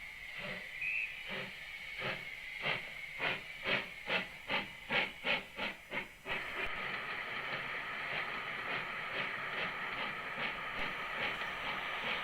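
A steam train at a station platform gives a series of rhythmic, chuffing steam bursts that quicken and then settle into a steady, loud hiss, with no voices.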